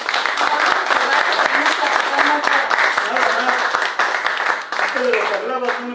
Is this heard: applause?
yes